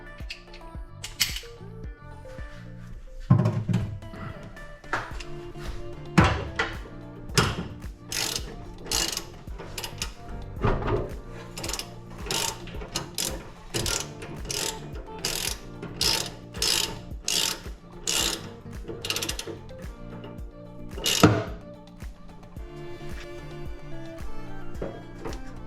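A ratchet wrench fitted with an extension clicks while working on the steering damper of a VW Super Beetle, close and crisp, in irregular bursts of rapid ratcheting with pauses and small metallic handling sounds between.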